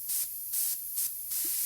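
Four short bursts of hissing spray are aimed at painted goddess jewellery on a poster-colour artwork, each puff close and crisp with brief pauses between.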